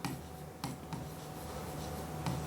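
Marker strokes on a classroom board as chemical names are written out: soft continuous scraping broken by a few sharper taps, fairly quiet against a steady room hum, with no voice over it.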